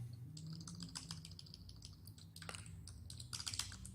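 Steady typing on a computer keyboard, a rapid uneven run of close, light key clicks continuing throughout at low level with no talk.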